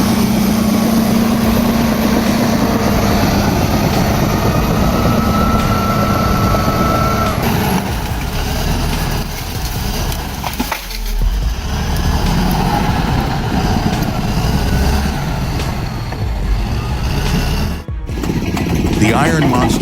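A loud, heavy logging truck engine roars continuously while climbing through mud under a heavy load, rumbling and grinding close by, with brief dips and surges in intensity.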